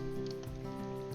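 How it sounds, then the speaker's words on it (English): Heavy nighttime rain falls in the Pacific Northwest zoo of the Planet Zoo video game, a steady dense wash of drops with a constant background hum, no voices. "it's raining heavily because Pacific Northwest"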